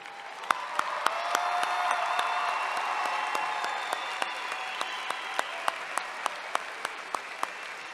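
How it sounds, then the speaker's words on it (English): A commencement crowd gives the graduates a round of applause at Tennessee Tech University's spring ceremony, dense sustained clapping from many hands filling the hall, with sharp individual claps standing out in a loose rhythm. "Let's give all these graduates another round of applause."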